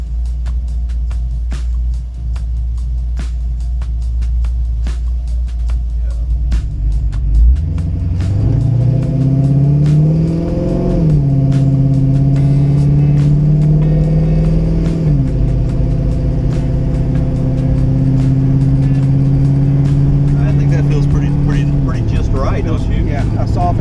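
A 1967 Chevrolet Camaro, restored from rust and freshly tuned, pulls away on a test drive with a deep, loud engine rumble that climbs in pitch and drops at each softened part-throttle gear shift, three times in sequence.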